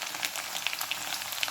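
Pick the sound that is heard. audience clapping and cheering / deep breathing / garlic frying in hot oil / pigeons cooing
garlic frying in hot oil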